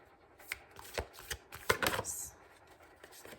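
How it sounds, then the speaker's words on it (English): A deck of tarot cards being shuffled by hand, quick papery riffles and taps in a few short bursts, close and fairly quiet in a calm room with no talk. "this card came out when I was shuffling."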